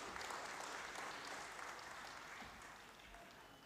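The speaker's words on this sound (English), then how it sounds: "A big round of applause for him" Audience applause at a pharmaceutical quality and compliance workshop, a steady, moderately faint wash of clapping from a seated crowd that slowly tapers off.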